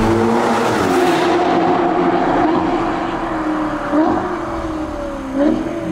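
A Ferrari Portofino M is driven on the road. Its exhaust gives a loud, steady engine drone with two brief upward revs near the end, over road and wind noise.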